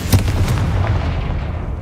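Confringo fire spell blasting in Hogwarts Legacy: a heavy, close boom with a quick crackling follow-up burst, then a rumbling decay that fades out over about two seconds.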